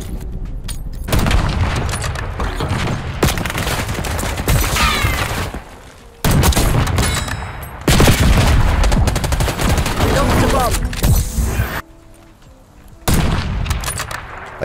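Rapid bursts of automatic gunfire and shots in a Search and Destroy match of a first-person shooter with omni-movement, loud and dense in several stretches with short gaps between them.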